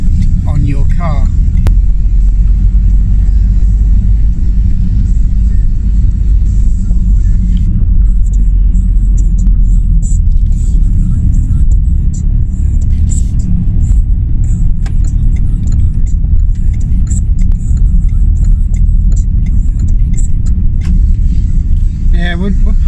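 A car drives along and pulls into a supermarket, its engine and road noise forming a loud, steady low rumble throughout, with voices talking over it.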